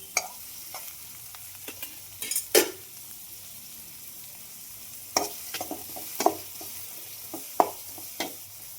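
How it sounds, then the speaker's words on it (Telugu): Onions frying in a pan for a chicken sherwa, stirred with a utensil: a steady soft sizzle underneath, with scattered scraping and clinking stirs bunched around the middle and near the end. "ఆనియన్స్ బాగా వేగేదాకా కలబెట్టుకుందాం."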